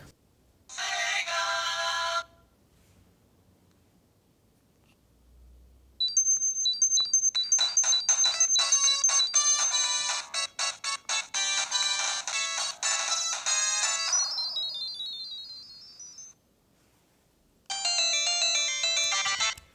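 Mega Drive game music and chiptune sound effects play through the small built-in speaker of a Powkiddy RGB20S handheld. Bright bursts come in separate stretches with silent gaps between them, and the bleeps are rapid and rhythmic.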